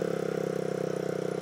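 Kymco Agility 50 scooter with a new cylinder running steadily close by, a fast even two-stroke putter with a tight rapid pulse and no voices.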